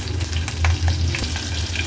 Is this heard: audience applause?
no